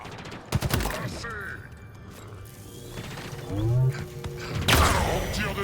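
Gunfire and weapon mechanics in the video game Halo Infinite: sharp bursts of shots, clicking ratchets and metallic reload sounds, mixed with game effects and occasional speech.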